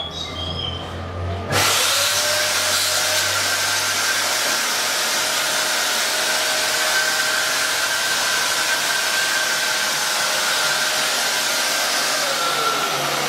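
An AIROFOG U260 ULV fogger sprayer starts up after a brief quiet moment, then runs with a loud, steady, high-pitched motor whine and airy hiss that holds without a break to the end.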